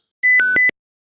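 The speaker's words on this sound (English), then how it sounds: "So you'll hear those beeps every time you get a successful flash," Motiv Reflex beep sequence when the verification button is clicked: a steady high tone broken by three quick electronic pulses, briefly dipping in pitch, crisp and isolated against silence.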